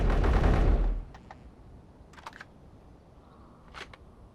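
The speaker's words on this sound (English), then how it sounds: "you could also hear brand new rifle shot sounds" Rifle fire in the game Space Engineers: a loud burst of shots up front, then a few sharp, fainter cracks and echoes spaced apart, with no talk.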